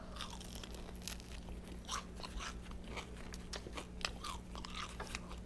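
Crispy fried fish caudal fin being crunched and chewed, a quiet run of close brittle cracks over a steady low hum, with no talk.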